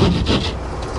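A saw cuts a round hole through a ceiling to fit a 14-inch skylight tunnel, giving close, loud rasping strokes of wood being cut over one continuous second.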